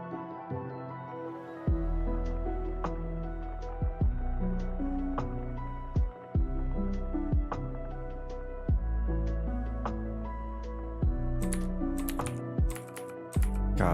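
Computer keyboard typing and mouse clicking at a desk while editing in Unreal Engine 5, with sharp, close clicks in irregular bursts and some quick double clicks, no voices.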